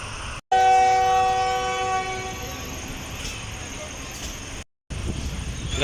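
Awam Express train pulling out of Ladi Junction railway station, with a loud sustained multi-tone horn blast up close, then steady rumbling and clatter of the moving train; brief dropouts interrupt it.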